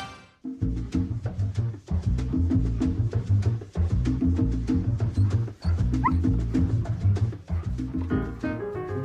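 Several Russian-European Laika hunting dogs bark continuously, loud overlapping yips and barks close by with a few higher whimpers mixed in, filling the whole stretch.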